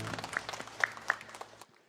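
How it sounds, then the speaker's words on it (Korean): Church congregation applauding during a Sunday worship service, a short burst of scattered clapping with a few sharper claps, under a sustained low musical tone that fades out at the end. "우리 주님께 영광의 박수 드리겠습니다"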